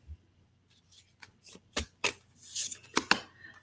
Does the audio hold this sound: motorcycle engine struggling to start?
no